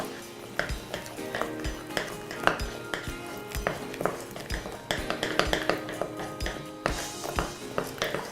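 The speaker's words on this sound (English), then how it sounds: "you can just combine that in with a spoon or your mixer" A spoon clinks and scrapes against a bowl while mixing yellow-tinted icing for tropical cupcakes. The strokes are close and repeated in an uneven rhythm of metallic taps, with no talking.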